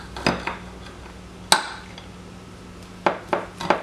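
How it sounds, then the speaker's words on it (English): A knife cuts through a chocolate, coconut and cream cheese slice, giving a few sharp knocks of the blade against the board, spaced irregularly, close and clear in a quiet kitchen. "So I'm going to cut that into equal pieces. First take the ends off"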